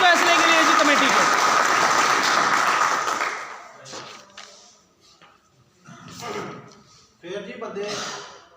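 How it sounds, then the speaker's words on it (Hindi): Audience applause at a meeting, a loud, dense burst of clapping from a gathered crowd lasting a few seconds before dying away, followed by someone speaking in short phrases. "भरपूर तालियां इस फैसले के लिए जी कमेटी को"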